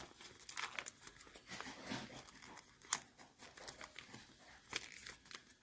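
Sheets of paper being folded and creased into a paper blade, giving soft crinkling and rustling with a few sharper crisp crackles, close and fairly quiet, with no voices.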